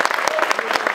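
A crowd applauds at a Yellow Vests assembly meeting at the Forum des Angles, a short burst of dense, close clapping with sharp irregular hand claps throughout.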